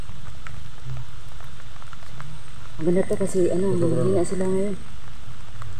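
Steady rain falls throughout, a dense broadband patter holding from start to finish while people talk over it in the middle stretch.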